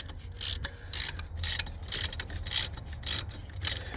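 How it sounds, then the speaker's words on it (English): A ratcheting wrench works the serpentine belt tensioner pulley on a 1996 Jeep Cherokee. Crisp, quick ratchet clicks come in short bursts about every half second, close and clear with no talking. "a ratcheting wrench is pretty good for this, and you can get it on the pulley down there"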